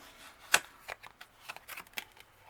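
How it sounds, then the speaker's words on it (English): Tarot cards are shuffled by hand in a series of crisp, close riffling snaps and soft flutters, with one sharp burst followed by lighter irregular ones and no talk. "as I shuffle the cards"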